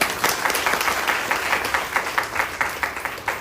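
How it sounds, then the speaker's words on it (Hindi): Audience at an OK Life Care training session in Lakhimpur claps, a dense, steady round of applause with a rhythmic pulse running throughout. "ताली बजा सकता है"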